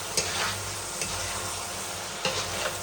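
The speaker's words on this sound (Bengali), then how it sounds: "চিকেনটা এরকমভাবে আগামী ভেজে নিলে" Chicken fries with garlic and onion in a pan, a steady close sizzle broken by a few scraping stirs of a spoon, heard alone without talk.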